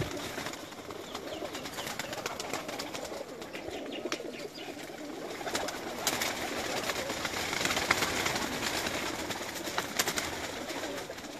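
A large loft of high-flying pigeons keeps up a dense, continuous murmur of coos and fluttering, fairly close and steady throughout, with no talk.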